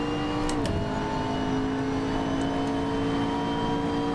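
McLaren MP4-12C GT3 race car engine in Assetto Corsa, a steady sustained drone with a clear pitch drop early on, as if lifting off or shifting, then a constant engine tone holding loud and even throughout.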